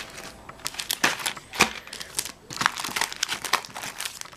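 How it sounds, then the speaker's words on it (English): Plastic-wrapped mailing envelopes crinkle and rustle as they are handled, in quiet, close, irregular bursts of crackling. "And then just some more mailing envelopes."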